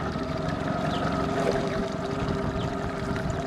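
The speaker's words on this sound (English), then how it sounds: "Oh, I love the sound of that little Mercury." A small Mercury outboard motor runs steadily on a Vexus AVX1980 tin boat, with a constant loud engine drone and water noise and no pauses.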